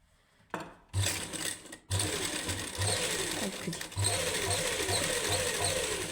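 A sewing machine stitches a seam on suit fabric in a boutique, running in steady bursts with brief stops, loud and close, with no talk.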